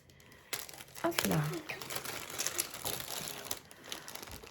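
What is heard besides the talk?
crinkling plastic bag being opened (diamond painting package)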